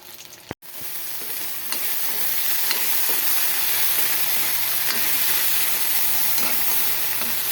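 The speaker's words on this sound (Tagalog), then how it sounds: "Ayan, iginisa ko lang po to sa konting mantika. Ayan, igigisa lang po natin yung mixed vegetable natin." Mixed vegetables sautéing in a little oil in a pan give a loud, steady sizzle with stirring, after one sharp click near the start.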